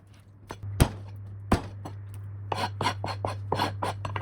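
A cleaver chops a chicken drumstick through the bone on a board, with two sharp heavy whacks followed by a quicker run of lighter chops, close up over a steady low hum.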